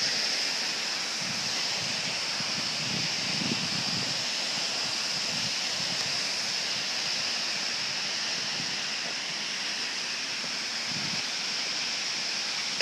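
Broad, steady rush of falling water from a large artificial waterfall, 8 meters wide and 7.5 meters high, at an outdoor ethnic culture park in Beijing, continuous and fairly close with no voices.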